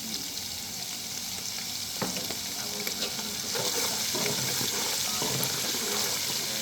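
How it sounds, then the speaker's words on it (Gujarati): Green chilies sizzle and crackle in hot oil for a Gujarati sev masala dish, a steady frying hiss with occasional stirring clinks, close and moderately loud, with no talking. "લીલું મરચું નાખીશું આપણે"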